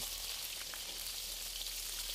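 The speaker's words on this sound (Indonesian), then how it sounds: "Ini ada cabai rawit sama bawang putih dan kemiri. Kita goreng ya sampai mateng." Bird's eye chilies, garlic and candlenuts fry in hot oil, giving a steady, dense sizzle with faint crackles throughout and no talk.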